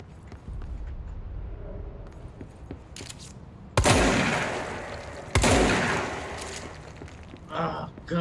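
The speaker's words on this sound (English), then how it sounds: "it's a shotgun" Two loud shotgun blasts from the video game Control ring out a couple of seconds apart over steady game ambience and low murmuring voices, followed by a brief burst of further noise at the end.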